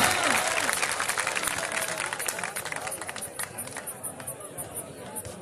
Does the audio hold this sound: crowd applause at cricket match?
yes